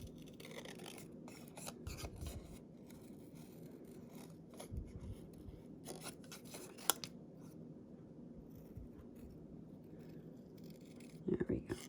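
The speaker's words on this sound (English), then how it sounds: "I'm just coming in with my paper piercing, or my paper snips, and then I'm just cutting around here." Small paper snips cut around a paper pansy in short, irregular bursts of crisp snipping and rasping, fairly close and quiet, with speech between the cuts.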